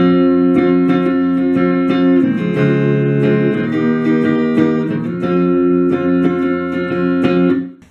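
Steel-string guitar strummed through the pre-chorus of a song, rich sustained chords with rhythmic strums, loud and close, with no voice.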